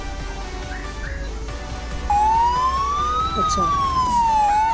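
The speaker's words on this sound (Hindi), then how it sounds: "ये इसका सायरन है।" A Qubo smart video doorbell sounds its siren alarm, a loud electronic wail that sweeps up and down in pitch over steady background noise after brief talk in Hindi.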